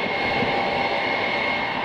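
An Il-76 transport aircraft approaches to land at an airport, its engines producing a steady, loud, continuous roar with a sustained whining tone and no talking.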